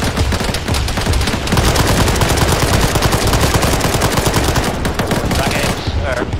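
Dense, sustained gunfire and explosive rocket impacts in an Arma 3 firefight as rocket-armed Huey helicopters strike a position, loud continuous rattling bursts filling the whole stretch with little pause.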